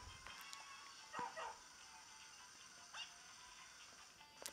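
Puppies in the Nintendo 3DS game Nintendogs + Cats give a few faint, short yips and barks over a quiet electronic background hum, with a Mario kart toy nearby.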